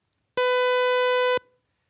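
A synthesized sawtooth tone, its phases scrambled, sounds as a single bright, buzzy held note lasting about one second, starting and stopping abruptly with a short fading tail, alone against silence.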